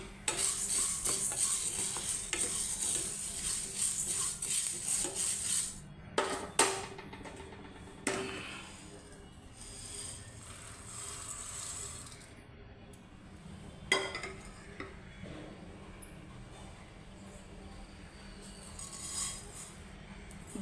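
Whole green moong beans are dry-roasted in a pan, stirred with a utensil that scrapes and clinks against the metal in irregular bursts, over a faint background hiss.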